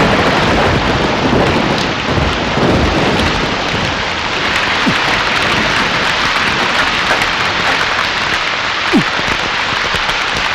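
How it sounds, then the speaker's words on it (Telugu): Steady heavy rain pours throughout, with low thunder rumbling underneath and a couple of brief sharp cracks; loud and continuous, with no voices. "వర్షం వచ్చేటట్టుంది, సోదా ఇంటికి వెళ్ళండి."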